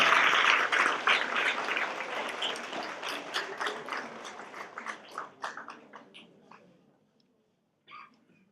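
Applause from a home-team audience after a presentation at a challenge event, starting as a loud dense burst and thinning into scattered claps that fade to near silence, with a brief faint sound near the end.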